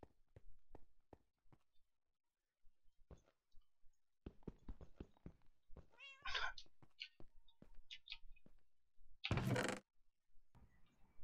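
Minecraft cat meowing in a game, several short meows at moderate distance mixed with clicks and scattered in-game footsteps and sounds, one louder burst near the end.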